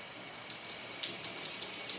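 Cold water runs from a shower, a steady hissing spray with slightly louder splashy bursts as it strikes a body, close and continuous for the whole moment.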